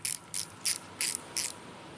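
Five short bursts of bright mechanical clicking from a G-max Wolf II spinning reel's spring clicker, evenly spaced, each a quick ratcheting buzz close by, with quiet gaps between.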